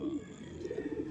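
Racing pigeons cooing softly in a loft, a few low, rounded coos repeating close by at a faint level.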